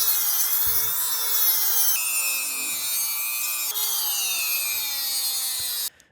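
A Dremel rotary tool grinds a groove into a screw on an engine: a steady high-pitched whine with gritty cutting noise that holds for about six seconds and then cuts off abruptly.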